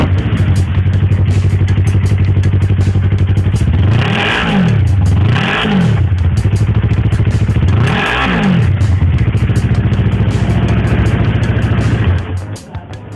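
A stock-exhaust motorcycle engine with a catalytic converter idles steadily and loud, then revs up three times in quick blips, two close together and one later, before the idle cuts out near the end.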